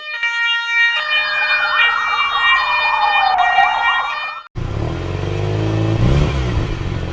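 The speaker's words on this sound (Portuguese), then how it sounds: "Carro de polícia." Loud, close emergency siren of a police car, a wailing tone that sweeps down in pitch, then cuts to a dense burst of engine and siren noise.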